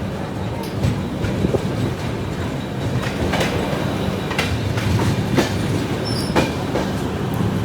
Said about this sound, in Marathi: ट्रेन आपली मस्त स्पीडने चालली आहे.